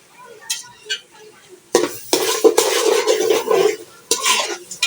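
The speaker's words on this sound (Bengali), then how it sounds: "এখন আমি চালগুলো ভালো করে ভেজে নেব।" Broken rice fries in a pan and is stirred, giving scraping and clinking of a utensil against the pan over a light sizzle, in uneven bursts.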